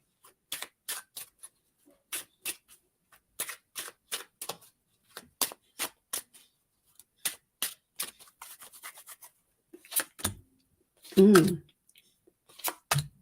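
Tarot cards being shuffled in a quick run of sharp riffling bursts, close and crisp with brief pauses between, ending in a few louder handling thumps.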